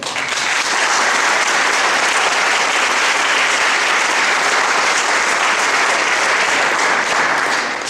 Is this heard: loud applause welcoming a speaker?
yes